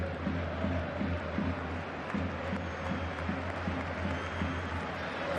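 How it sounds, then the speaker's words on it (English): Stadium crowd at a Real Madrid versus Malaga football match gives a sustained round of applause, a steady dense roar of clapping and crowd noise throughout, with faint commentary underneath. "Round of applause as Real"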